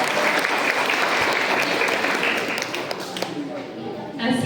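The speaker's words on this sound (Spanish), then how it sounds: "Fuerte los aplausos." Audience applause at a school essay and speech contest, a full burst of clapping that gradually thins and fades, with a voice speaking over the dwindling claps near the end.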